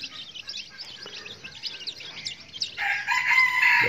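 Young jungle fowl raised in captivity chirp in a thin, busy scatter, then a louder, drawn-out crow rises near the end, fairly close and without speech.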